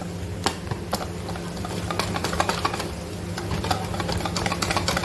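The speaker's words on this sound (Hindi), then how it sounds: "बीटर भी आपने इतना चलाना है कि आपका अंडा सिर्फ मिक्स हो जाए" An electric beater whirs steadily as it mixes butter lemon pound cake batter with egg, with a continuous motor hum and repeated clicks of the beaters against the bowl. No one speaks.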